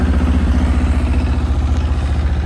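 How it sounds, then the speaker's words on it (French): An engine idles just after an oil change, a close, loud, steady low chug with an even rhythmic clatter and no voices. "on va laisser tourner 30 secondes, 1 minute, histoire que l'huile se mélange bien et qu'elle lubrifie bien toutes les parties du moteur"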